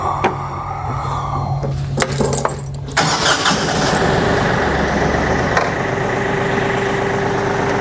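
A hydrostatic tractor's engine is cranked and catches around the three-second mark, then settles into a loud, steady idle with a continuous low rumble close by.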